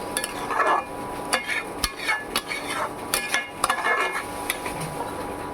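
Paneer pieces going into a pot of water set to boil, with a spoon stirring: sharp metallic clinks and knocks against the pot at an irregular pace over soft scraping, no talking.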